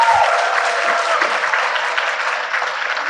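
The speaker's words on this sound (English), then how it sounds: "I want to please give them a huge round of applause." An audience at a spring convocation claps in a sustained, loud round of applause that holds steady from start to finish.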